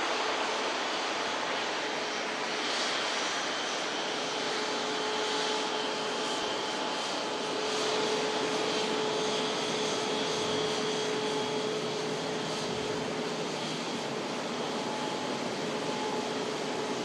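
An Emirates Airbus A380 jet at Manchester Airport gives off a steady, broad engine roar with faint whining tones, sustained and fairly distant for the whole stretch, with no talk over it.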